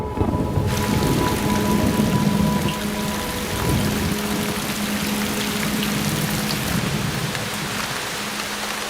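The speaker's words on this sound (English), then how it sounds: "It rains here nearly every day." Heavy rain falling in western Tasmania, a dense continuous downpour hissing on surfaces, loud and close, with a low steady hum underneath and no voices.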